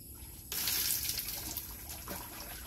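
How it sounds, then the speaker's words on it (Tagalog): During a bath, water is poured over a person's body: a short quiet moment, then a sudden splashing gush that keeps pouring and slowly eases off. "Buhos kasama katawan."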